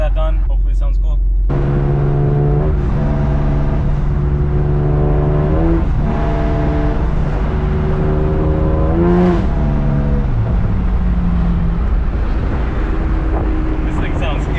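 A car engine is heard from inside the cabin, revving hard at wide open throttle through several pulls, the loud droning note climbing in pitch and dropping at each gear change.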